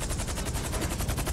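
Sustained automatic gunfire in GTA V: a rapid, evenly spaced stream of loud shots that rattles without pause from start to finish.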